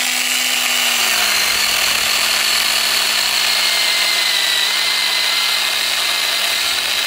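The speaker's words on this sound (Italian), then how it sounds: "Vediamo come se la cava la nostra motosega facendo più tagli." A battery-powered GT RXE mini pruning chainsaw runs steadily, its high whine and grinding rasp holding constant as it cuts through wood, loud and close.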